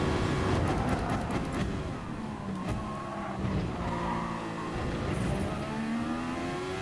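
The big Vegemite car in an online racing video game drives with a continuous roar of engine and tyre noise, its tyres skidding and squealing. It stays loud and steady throughout.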